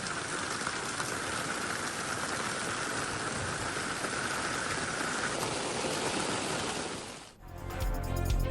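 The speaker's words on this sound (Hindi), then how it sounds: "कराची में मौसम सरमा की पहली बारिश।" Winter rain falling on Karachi through the night hisses as a steady, dense wash of drops on surfaces, loud and unbroken, before cutting off abruptly near the end.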